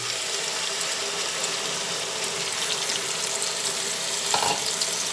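Water from a bowl poured into a pan of frying potato and pointed gourd, a dense continuous loud hiss and rush of boiling liquid, close, with a brief clunk near the end.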